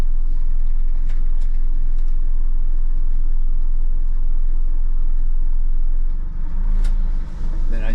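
A Yamaha F200 outboard on a Hewescraft Searunner boat shifting into gear at a dock, a loud steady low engine rumble with brief clicks and a short dip as it engages.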